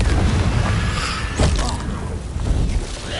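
Confringo explosive spell bursting in Hogwarts Legacy during a dragon fight, a heavy boom with crackling debris near the middle over continuous rumbling combat noise, loud and close.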